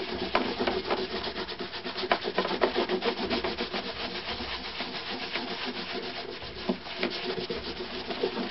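Steady hand-rubbing of Flitz polish into the varnish of an Opus violin, a continuous soft scuffing with quick back-and-forth strokes, close and even throughout with no talking.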